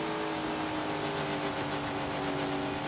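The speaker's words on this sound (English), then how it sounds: "You hear the car bogging down the corner" A sprint car engine bogs down through a corner in Tony Stewart's Sprint Car Racing game, a steady loud droning motor with strained, flattened revs held for a few seconds without talk.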